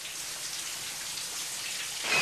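Water from a running shower hisses in a steady, even spray, as in the shower scene of the film Psycho, and swells slightly louder at the end.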